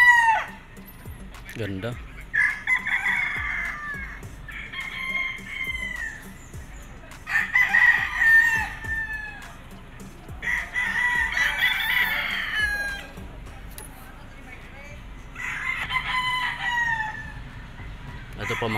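El Gamma Gray gamefowl roosters crowing on a game farm: repeated loud, drawn-out cock-a-doodle-doos from several birds, some close and some farther off, with clucking between calls and a brief word spoken.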